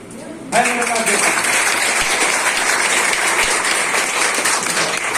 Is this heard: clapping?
yes